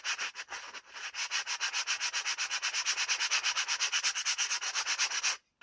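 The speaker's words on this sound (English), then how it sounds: "you can start just sanding the edges like where you cut the wood" Cut wood edges of a DIY art caddy are sanded by hand in quick, even back-and-forth strokes, a close rhythmic scratchy rasp repeating steadily for several seconds before stopping.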